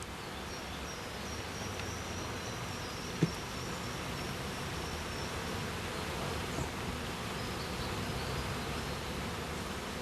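Honey bees buzz steadily around brood frames in a hive body as the frames are brushed free of bees, a continuous faint hum with one brief knock near the middle.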